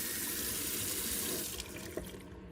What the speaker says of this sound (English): The water goes in and comes out the same side of the tank